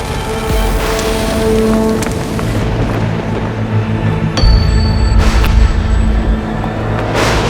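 Red hail pours from the sky in a dense, steady patter like heavy rain on a hard surface, with low booming rumbles rolling underneath throughout.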